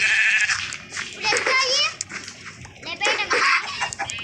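Blocky Minecraft chickens cluck in short bursts, mixed in with children's voices chattering excitedly close by.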